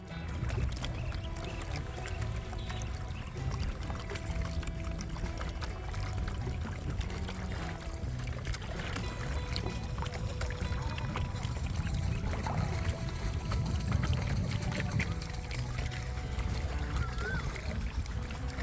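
A coracle boat is rowed across water at Pullu Paadam, Thrissur, with soft paddle splashes and trickling water under low, murmuring voices and background chatter throughout, fairly quiet and close.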